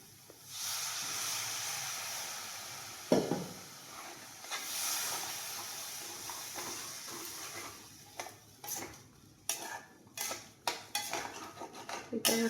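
Bengali fish curry masala with salt, turmeric and a little water is stirred and sautéed in a pan. Scraping utensil strokes and clinks come over a soft steamy hiss, growing busier and more rhythmic toward the end.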